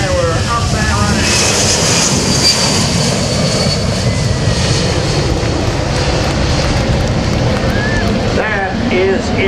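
A C-17 Globemaster III military jet transport takes off at the 2009 Dover AFB open house airshow, its engines producing a loud, steady, close roar that lasts the whole stretch.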